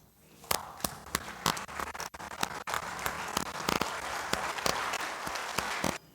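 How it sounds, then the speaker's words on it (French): Applause rises in a national assembly chamber, a room full of people clapping with sharp, dense hand claps that swell and hold steady, close and loud, without speech. "Je vous prie, avant de continuer mes propos, de bien vouloir vous lever et applaudir ce succès"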